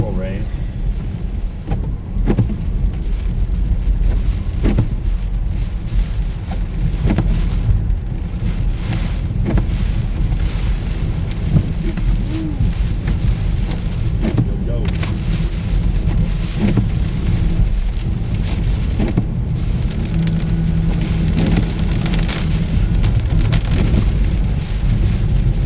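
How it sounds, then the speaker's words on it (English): Steady heavy rain mixed with frozen, slushy rain pattering loudly and continuously around a Volvo V70 XC AWD on Mount Baldy, with occasional sharper knocks. "There's a little bit of frozen rain, slushy rain mixed in with the regular rain."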